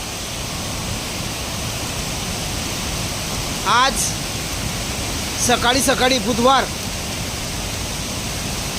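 A waterfall in full flood after heavy rain at the Manudevi temple area roars as a dense, constant rush of water, with brief bursts of a voice heard over it.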